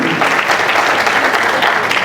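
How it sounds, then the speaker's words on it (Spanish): A church congregation applauds during a sermon, producing dense, continuous clapping from many hands. The applause is loud and sustained without pause. "para el cual te pido un aplauso"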